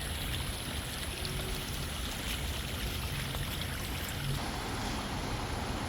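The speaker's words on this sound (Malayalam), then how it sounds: "നല്ല ഒഴുക്കുള്ള വെള്ളം" A fast-flowing village stream runs beneath a small footbridge, its faint steady rush and trickle continuous and unbroken.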